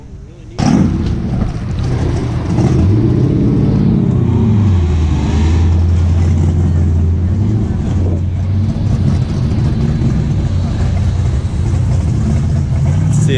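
Several Shelby Cobra sports cars pulling out of a Cars and Coffee show, their engines droning and rising in a loud, steady rumble for most of the clip, with crowd voices mixed in.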